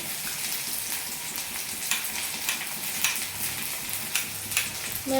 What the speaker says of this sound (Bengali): ওই তো ভাজা হচ্ছে, পেঁয়াজটা একটু লাল লাল হয়ে গেলে পরে তার মধ্যে নুন অ্যাড করে দেবো